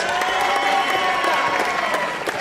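A live audience at a monster-movie event applauds and cheers in a steady, dense wash that holds for the whole stretch, with a few voices mixed into the crowd noise.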